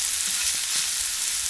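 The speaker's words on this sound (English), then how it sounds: "Just allow all this to saute, get soft and translucent." Two finely minced red onions sauté in hot oil, a brief, even, close sizzling hiss with faint stirring underneath and no speech.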